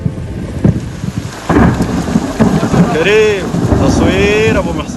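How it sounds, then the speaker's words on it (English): A violent thunderstorm with hail strikes Saudi Arabia, its rumbling thunder and steady rain roaring close and loud, with a couple of rising and falling whistling tones sounding over the storm. "The most violent storm of the year hit Saudi Arabia."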